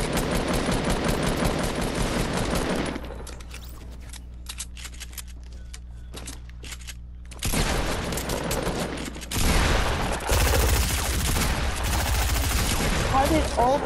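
Gunshots in a video game: rapid bursts of automatic fire, then a quieter stretch with a few isolated shots, before dense gunfire resumes loudly to the end.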